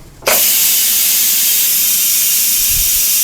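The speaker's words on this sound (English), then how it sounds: "let's let the pressure out" A sudden loud, steady hiss of steam bursts out of an Instant Pot pressure cooker being vented and continues without pause, close and forceful.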